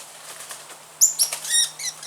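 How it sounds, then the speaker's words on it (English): Birds burst into flight as a dog chases them, a few quick flurries of flapping wings close by, with faint chirps mixed in and no talking. "Dog's chasing the birds."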